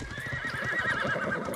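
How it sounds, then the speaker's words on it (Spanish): Horses whinnying loudly amid rhythmic hoofbeat clatter during a castle defense battle in the medieval game Life is Feudal, close and continuous with no talk. "Han entrado caballos, han entrado caballos"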